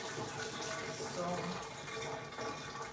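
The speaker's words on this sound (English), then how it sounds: "So she's gonna rinse her hair and twist." Running water rinsing 4c hair during a winter wash-and-go routine: a steady, close, continuous splashing rush with no breaks.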